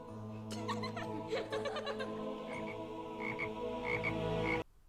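A toad croaking in a rapid, rattling series of close throaty calls, with short repeated pulses over a steady low hum, ending abruptly.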